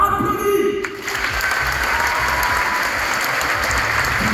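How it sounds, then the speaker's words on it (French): A theme park show audience at Parc Astérix applauds before the performance, a dense, steady wall of clapping from many hands that fills the whole stretch. "tout le monde applaudit."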